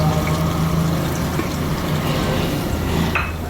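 Onions fry in hot oil in a cooking pot, giving a steady, close sizzle and crackle with faint bubbling beneath and a brief sharp tick near the end, with no talking.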